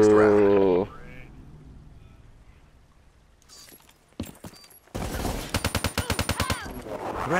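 Rapid automatic gunfire in Call of Duty: Black Ops III multiplayer Search and Destroy, a burst of evenly spaced sharp shots near the end following a few scattered single blasts, with a voice speaking at the start.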